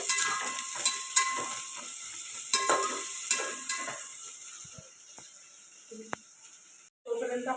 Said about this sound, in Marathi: कांदा परतवून घ्यायचा आहे चांगला.